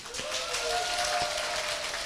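Applause from a lecture audience, a steady broadband patter of many hands filling the whole stretch at moderate level, with a faint tonal whistle or feedback line running underneath and no talk.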